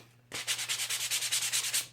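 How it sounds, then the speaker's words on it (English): Sandpaper rubbed along the edges of a repurposed Christmas card, a quick series of about a dozen even, rhythmic scratching strokes, close and clear with no talking. "just take some sandpaper, just sand these edges just a little bit"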